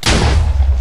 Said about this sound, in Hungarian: Hallottátok a tűzijáték?